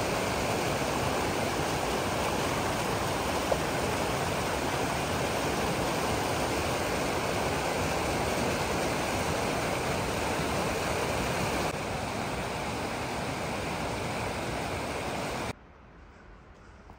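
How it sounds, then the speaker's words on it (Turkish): A river feeding the Yusufeli Dam rushes past near Çıralıköy in northeastern Turkey, a loud, dense, unbroken roar of flowing water heard up close for the whole stretch, with no voices. "Yusufeli Barajı'na akan nehirin kaynaklarından bir tanesi"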